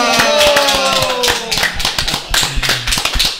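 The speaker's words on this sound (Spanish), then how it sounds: "Vamos a recibir con un fuerte aplauso a Dariana Sofía" Applause welcoming a gymnast onto a Puerto Rican sports talk show, loud close hand claps in a brief uneven burst, with voices talking over them.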